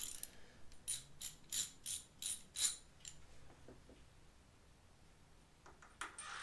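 Quick repeated ratchet clicks while a T50 Torx bit loosens a bolt on a BMW S1000RR M Sport motorcycle, a crisp rhythmic series of about six pulls, then a few softer mechanical clicks.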